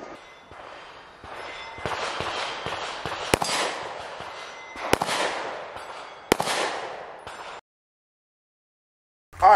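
A Canik Mete MC9 9mm pistol fired at an outdoor range: sharp, close shots ring out at a steady pace over a loud, continuous noisy wash, then everything cuts to silence before one final burst.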